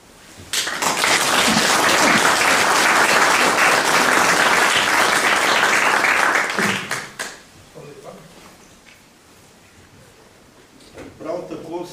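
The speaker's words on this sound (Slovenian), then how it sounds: "za začetek in spodbudo pri delu, ki so ga sprejeli, jim namenimo aplavz" An audience at an art exhibition opening applauds a newly appointed committee, loud sustained clapping for about six seconds that stops abruptly, followed by quiet room noise and faint voices.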